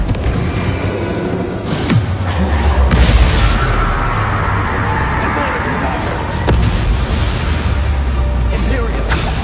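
A Confringo blasting spell goes off in a video game as a dense, loud explosive boom, part of a continuous roar of magical combat effects under a voice shouting spell names.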